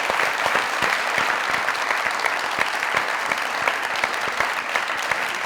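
Enthusiastic studio audience applause greeting guests on a comedy talk show, a dense, steady roar of many hands clapping at close range that holds evenly for several seconds.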